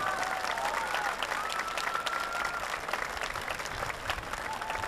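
An audience applauds at a gala concert with dense, steady clapping throughout, close and sustained, and a voice is briefly heard over it.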